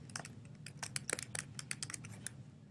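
A page title is typed on a computer keyboard, producing a quick, irregular run of soft, close key clicks over a faint background hum, with no talk.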